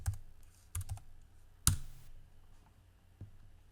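A computer keyboard gives a few sparse, separate keystroke clicks, one sharper and louder, set against a quiet room with no voices.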